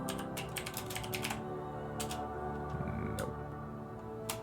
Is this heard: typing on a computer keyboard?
yes